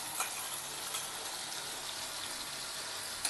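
Mustard paste hitting hot oil with frying hilsa fish, a steady bright sizzle close by with faint crackles, no talking.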